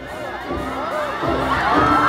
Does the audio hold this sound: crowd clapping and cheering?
yes